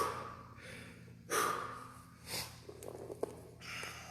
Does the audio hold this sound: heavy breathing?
yes